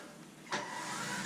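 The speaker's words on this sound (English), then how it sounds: "I'll show you just how easily this wheelies with the mods that I've made" A modified Tamiya Lunchbox RC monster truck jumps from quiet to a sudden whirring electric motor burst as it pulls a wheelie, the motor whine holding steady and close for the rest of the moment.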